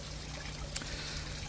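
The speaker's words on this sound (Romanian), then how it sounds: "Este un izvor cu apă nemaipomenită. O să-mi iau și eu o sticlă să beau acolo." Spring water trickles steadily from a natural spring near Trei Papuci beach into a bottle, a continuous close, bubbling flow with no talk.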